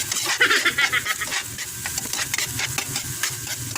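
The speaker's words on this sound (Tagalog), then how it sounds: "Haluin lang natin hanggang mag-golden brown" Ginger fries in a pan and is stirred until golden brown, giving a steady sizzle broken by repeated scraping and stirring strokes up close.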